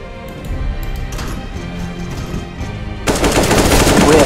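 Rapid automatic gunfire in Counter-Strike: Global Offensive, a dense steady burst of shots that grows louder and closer partway through, with no talk over it.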